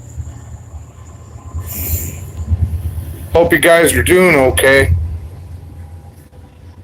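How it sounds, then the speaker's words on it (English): A train rolls past in the distance as a low rumble with faint wheel squeal, while someone speaks briefly over it. "Now there's a train going by."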